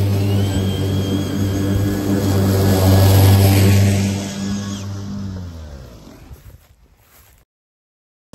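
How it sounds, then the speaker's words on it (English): A lawn mower engine drones steadily and loudly with a strong low hum, then winds down and cuts off near the end, leaving silence. "that was an enjoyable mow"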